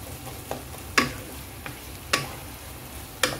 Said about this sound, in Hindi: बड़े अच्छे से इनको भून लीजिएगा।